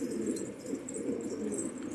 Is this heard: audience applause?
no